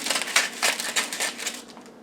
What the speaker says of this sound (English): I love that sound of envelopes tearing open